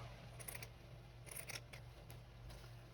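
Scalloped edge scissors snipping through material while making a needle felted Christmas mouse, a few short crisp cuts in quick clusters over a low steady hum, close and fairly quiet.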